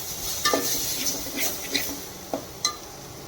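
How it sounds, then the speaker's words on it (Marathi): Ground masala paste roasting with a splash of water in a pan for Kolhapuri misal, with a steady low sizzle and a few sharp scrapes and clinks of a spoon stirring against the metal. "हा मसाला आपल्याला व्यवस्थित भाजून घ्यायचा आहे"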